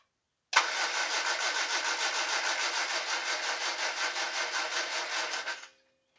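A Humber Sceptre Mk3 engine cranks steadily on the starter without catching, its rapid, even rhythmic whirr running for about five seconds with no voices, then stopping abruptly.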